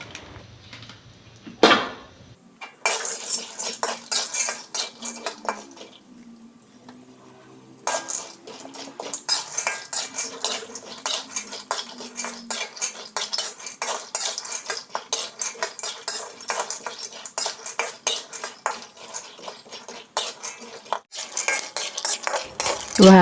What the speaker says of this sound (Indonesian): Dan lanjut Mbak Ica juga mau goreng kacang tanah ya, biar tambah seger nanti sotonya ya.